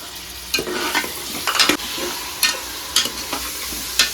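Tomatoes and onions sauté in a pan for sambar rice: a soft background sizzle broken by repeated scraping stirs of a spoon at irregular intervals, close and fairly crisp.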